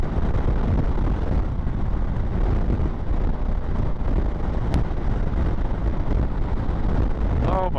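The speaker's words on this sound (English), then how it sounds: "The wind, the wind. There's so much wind." Strong wind roars continuously across the microphone while a Honda Africa Twin motorcycle rides over open moorland, a loud, dense buffeting rumble that masks nearly everything else.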